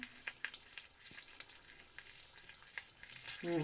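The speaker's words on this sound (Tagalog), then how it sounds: "Pinipirito na." Food sizzles and crackles as it fries in hot oil in a pan, with a stuffed pepper dish being cooked; soft, irregular pops and hissing continue throughout, fairly close, with a louder burst at the end.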